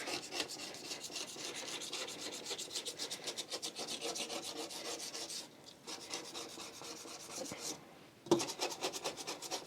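A glass cooker hob is scrubbed clean with fast, rhythmic rubbing strokes, a close, steady scratchy swishing that pauses briefly twice before resuming.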